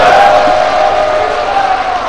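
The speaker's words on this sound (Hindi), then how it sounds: "आइए पुनः हाथ ऊपर करके तालियों के जयघोष से धन्यवाद करें हमारे यशस्वी प्रधानमंत्री महोदय का" Large outdoor crowd at a Prime Minister's foundation-stone event in Mana village, Uttarakhand, cheering and applauding in a loud, sustained wash of voices with a steady roar throughout.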